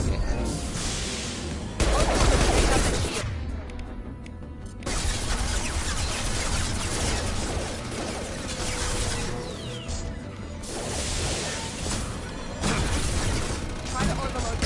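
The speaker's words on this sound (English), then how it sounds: "Gonna flashbang it." Mass Effect video game combat with a flashbang going off and bursts of gunfire, loud explosive booms and crackling shots, with a voice talking over the fighting.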